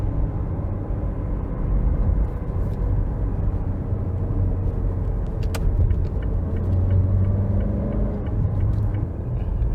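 A 2019 Mazda CX-5 engine hums low and steady while driving in third gear, a continuous close cabin rumble with road noise and no talk.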